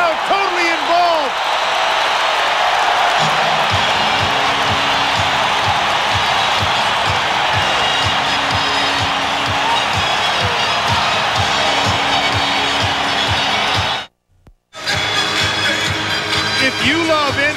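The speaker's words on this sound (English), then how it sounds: "The crowd totally involved." A basketball arena crowd at a 1994 NBA playoff game between the Spurs and Jazz roars steadily and loudly, with a rhythmic stomping or chanting beat underneath and a brief dropout near the end.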